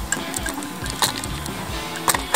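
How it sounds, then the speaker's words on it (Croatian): A second air conditioner unit runs nearby, alongside a heat pump being checked for a freon problem, giving a steady mechanical whirr with repeated sharp ticks and clicks at close range. "čuje se druga klima, nije ova upaljena."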